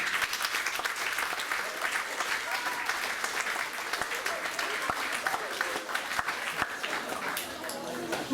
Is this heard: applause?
yes